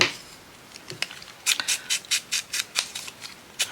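Scissors trim fussy-cut paper cards for embellishments, with a few scattered snips followed by a quick steady run of about ten crisp, close cuts, then one more snip at the end.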